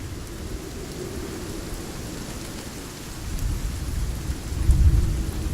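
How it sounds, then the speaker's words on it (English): In the video game Spellforce 3, a thunderstorm brings steady heavy rain hissing throughout, with deep rolling thunder that swells louder toward the end. "The storm's completely soaked the ground."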